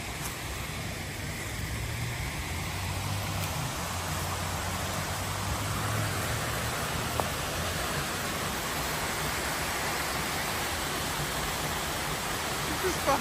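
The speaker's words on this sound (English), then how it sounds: "Oh, look at this little waterfall I found." A small waterfall behind a hotel, heard as a steady broadband rush of falling water that holds evenly and close throughout, with no voices over it.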